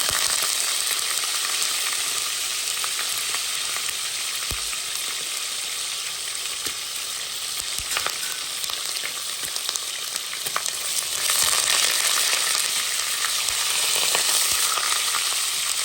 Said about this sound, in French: Je prends mes 2 morceaux de spadon, je mets à frire par ici.